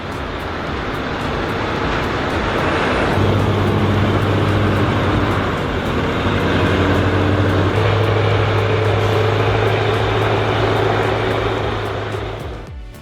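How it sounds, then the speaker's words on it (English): Scania V8 heavy haulage trucks, an R620 leading and a T144 pushing, move an oversize wind turbine blade load with a loud, steady, deep engine drone that fades slightly at the end. "Leading the way is the powerful Scania R620-84, followed by the T144 push vehicle"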